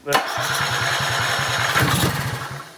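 A Sea Ray 370 Sundancer boat engine under restoration cranks and catches, settling into a steady, rapid chugging idle up close, with a voice briefly heard over it.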